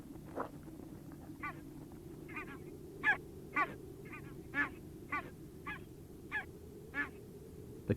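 In the Arctic, a pair of geese call in alarm: a series of about a dozen separate honks, evenly spaced and moderately distant, rising above a low, quiet background.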